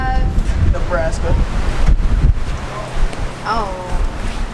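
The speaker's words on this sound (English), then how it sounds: "it's so windy." Strong Nebraska wind buffets the microphone in a steady, rough roar with gusty surges, while voices murmur underneath.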